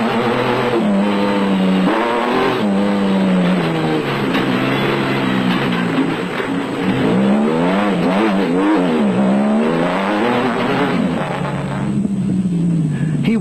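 Off-road special vehicles race through the desert during the 2003 Toyota 1000 Desert Off Road Race, engines droning and revving steadily throughout with shifting pitch as they accelerate, loud and continuous with no break.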